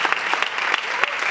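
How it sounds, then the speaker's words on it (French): Dense, loud applause from the audience at an award ceremony for the Mobile Film Festival Africa 2023 winners, continuous clapping close by with no pauses. "Je veux encore qu'on les applaudisse et qu'on félicite tous les lauréats"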